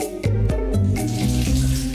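Water runs steadily from a household tap for about two seconds, a continuous close gush with a faint tonal ring through it and no voices.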